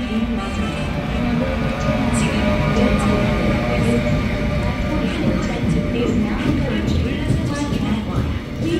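A Mugunghwa passenger train on the Jeolla Line rolls into Gokseong station, its heavy rumble and rail clatter sustained throughout, with a platform announcement voice heard over the noise.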